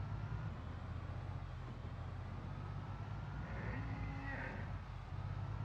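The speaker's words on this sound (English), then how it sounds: "Is that a cow?" A cow moos in the video game Project Zomboid, a low drawn-out call partway through, faint and distant over a steady background hum.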